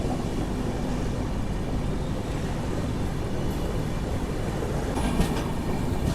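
The Charminar SF Express runs steadily near Gudur and Nellore, with a continuous loud rumble of a moving train and faint rail clatter throughout. No one speaks.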